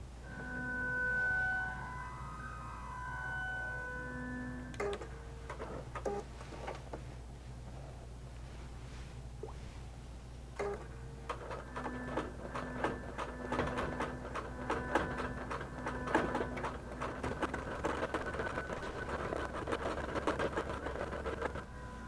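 A QBOT V3 quilting machine does appliqué and echo quilting, starting with a few electronic beeps and then settling into a long, steady run of fast mechanical stitching chatter over a low motor hum, close by and without talk.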